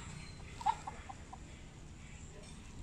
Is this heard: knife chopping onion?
no